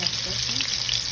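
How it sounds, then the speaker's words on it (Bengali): Meat for biryani fries in hot oil, a dense, continuous sizzle heard up close and loud across the whole short moment. "মাংসটা ভেজে নিলাম।"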